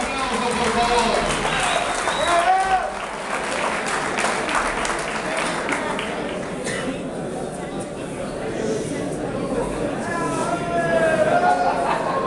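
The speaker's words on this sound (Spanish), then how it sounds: "Fuerte esos aplausos, por favor" A crowd applauds steadily through a boxing title night in Ezeiza, the dense clapping mixed with cheering and chatter, and an announcer's amplified voice carries over the top.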